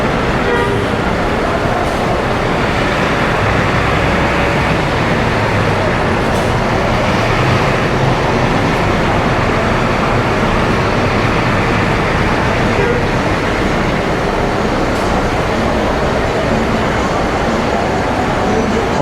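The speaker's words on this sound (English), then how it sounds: "This is Dau Bus Terminal." Busy roadway noise fills Dau Bus Terminal in Angeles City, Philippines, with idling buses, passing vehicles and occasional horn toots, a steady loud din with faint voices mixed in.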